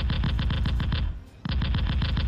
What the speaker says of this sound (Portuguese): Eu disparo alguns tiros de Bolter Tempestade.